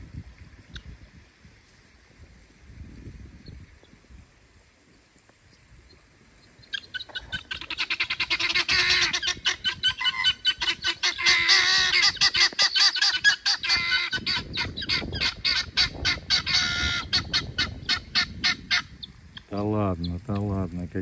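A flock of birds squawks and honks loudly and continuously after a quiet start, the raucous calls close and overlapping, in a lion park.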